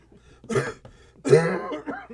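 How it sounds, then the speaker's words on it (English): Two close, harsh coughs a moment apart, the second louder and throatier, with no talking. "It doesn't work if you cover your mouth after you cough on me."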